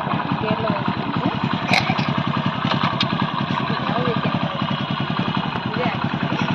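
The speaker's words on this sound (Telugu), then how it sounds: "క్లచ్ పట్టుకొని గేర్లో వేసుకోండి." Motorcycle engine chugging close by in a steady, rapid pulse while the clutch is held and a gear is engaged, loud and unbroken, with a voice talking over it.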